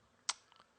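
A computer mouse is clicked on an install icon during a Fedora Linux setup: one sharp, close click, then two much fainter ticks a moment later in an otherwise quiet room.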